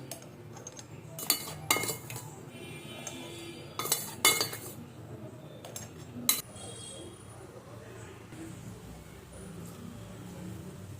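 A metal kadai is set down for cooking with a few sharp clanks and clinks of metal utensils, heard up close in a quiet kitchen with a low background hum and a voice talking.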